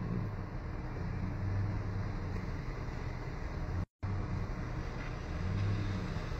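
A car driving along a road, with a steady engine and road rumble at a moderate distance that continues throughout, broken by one brief drop-out.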